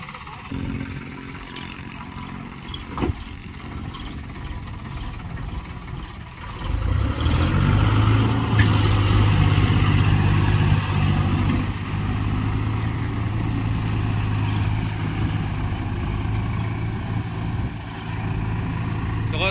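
A farm tractor rigged for ploughing a village field with a harrow, its engine running as a steady loud drone that rises and holds after a quieter start, with people talking over it.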